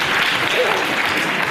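Audience applause at a public debate on Western values fills the hall, a dense steady wash of clapping at close range, with a voice speaking faintly underneath.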